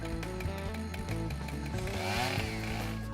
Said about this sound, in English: Turn off the choke and start the saw.